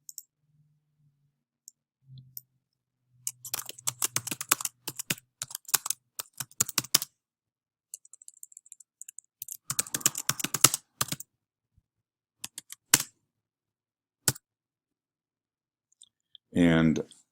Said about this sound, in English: Click on this.